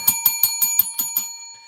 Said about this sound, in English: I'm ringing the hell out of this bell because this price is going higher